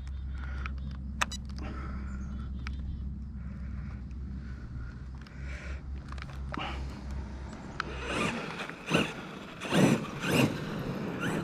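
A Traxxas Sledge RC monster truck with KCRC parts and a Castle MMX8S speed controller drives over rough rocky ground, its electric motor whirring steadily, then surging in bursts with harsh scrabbling and crunching near the end.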